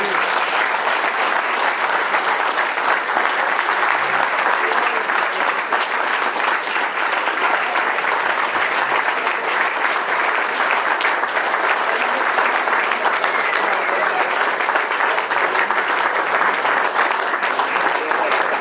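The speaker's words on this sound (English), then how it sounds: "Let's give another round of applause." Sustained, dense applause from a large audience at a ceremony honoring a lieutenant general, steady and loud throughout without a break.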